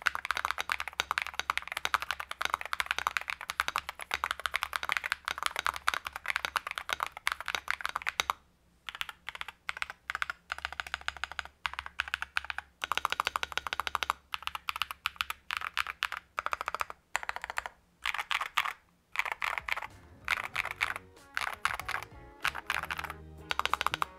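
Stock keycaps clatter on an Epomaker RT100 prebuilt keyboard in fast, steady typing bursts with brief pauses between runs, close and clear with no talk.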